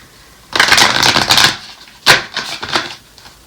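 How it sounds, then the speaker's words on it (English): Tarot cards are shuffled in two quick bursts of crisp riffling, close and loud, the first lasting about a second and the second shorter after a brief pause. "I'm going to shuffle it one more time."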